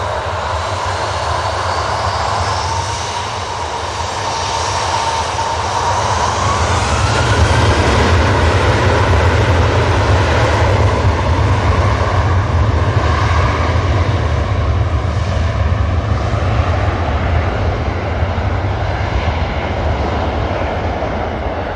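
A Ryanair airliner's jet engines roar steadily at an airport, loud and sustained with a broad whine that slowly shifts in pitch as the aircraft moves nearby.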